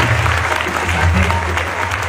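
An audience at a Jain concert claps loudly and steadily for the artists, a dense burst of applause from a crowd.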